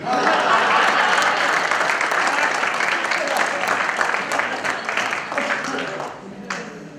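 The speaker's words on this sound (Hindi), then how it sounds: "और तालियां तो अब बजेगी" Audience applause at a poetry recital during a medical conference, a loud, sustained crowd clapping that holds steady for several seconds, then thins and fades toward the end.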